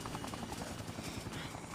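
Helicopter in the video game Dead Rising, a steady dense rotor drone filling the mix with constant loudness, mixed with game noise and no clear speech.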